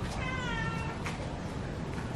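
A house cat meows softly once in a home with two cats, a female and a male, heard faint and close over steady low room noise.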